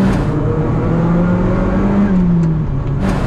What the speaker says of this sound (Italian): le dà il gas in galleria